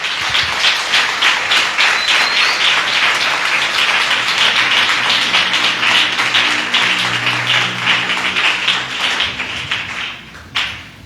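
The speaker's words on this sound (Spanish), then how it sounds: "dele un aplauso al Señor" A church congregation applauds during a Spanish-language service, loud sustained clapping from many hands filling the room for about ten seconds before thinning out at the end.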